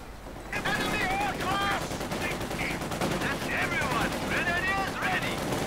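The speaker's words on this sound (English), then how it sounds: "they get hit by Spanky's artillery" Artillery and gunfire from the Company of Heroes 2 beta, a 2v2 World War II strategy match: continuous dense battle noise with repeated shots and blasts throughout, loud and sustained, while someone talks over it.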